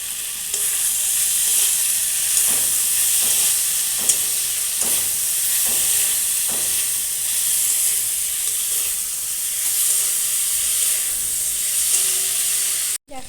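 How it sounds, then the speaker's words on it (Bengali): Pre-fried potato and pointed gourd pieces sizzle in an oiled pan under a steady hiss, while a spatula stirs and scrapes them in a series of distinct strokes. The sound cuts off abruptly at the end. "এর মধ্যে দেব ভেজে রাখা আলু পটল। ভালো করে নাড়তে হবে।"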